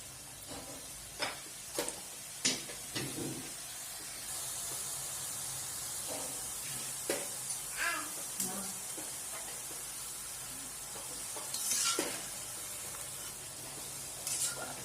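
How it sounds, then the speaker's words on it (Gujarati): Strips of wheat flour dough fry in hot oil over a medium flame with a steady high hiss, cut by occasional sharper crackles and spatters, close up and alone with no talk. "આ રીતે બધી પટ્ટી કરી લીધી છે અને આ રીતે બધી તળી લેશું"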